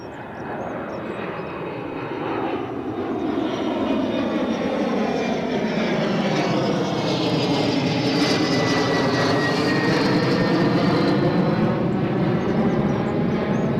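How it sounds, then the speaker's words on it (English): An Embraer jet climbs steeply away from Newcastle Airport with a loud, sustained engine roar and whine that shifts in pitch as it passes and recedes, with no voices over it. "nothing climbs like an empty Embraer. That got steep relatively quickly."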